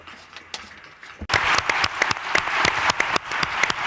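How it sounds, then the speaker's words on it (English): Audience applause for a panel of speakers after a scientific talk on single-cell omics: a quiet moment, then sudden steady clapping from a sizable crowd that carries on evenly to the end, with no voices. "A round of applause for them."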